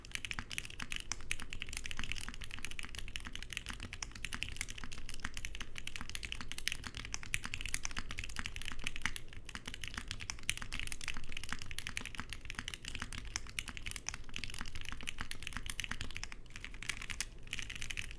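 Continuous fast typing on a mechanical keyboard with factory-lubed Black Ink switches, dense soft clacks in an even stream, close and moderately quiet, with no speech.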